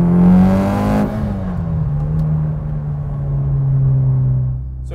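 Turbocharged four-cylinder Lancer Evo 9 tuned to 520 wheel horsepower on E85 fuel, engine revving hard and loud, then a sharp drop on a gear change before it pulls again with a steady, droning note, no talk.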